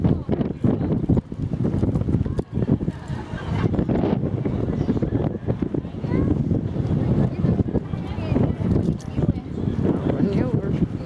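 Strong wind at Hoover Dam roars and buffets the microphone without letup, loud and close, with people talking underneath throughout.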